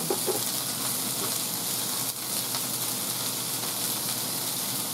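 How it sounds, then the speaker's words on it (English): Potatoes and onion sizzle in oil with a steady, even hiss, moderately loud and close, no voices. "when you're doing some frying"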